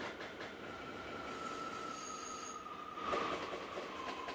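Moscow metro train running between stations toward Krasnye Vorota, a steady loud rumble of wheels and car noise with a thin sustained wheel squeal that swells near the end.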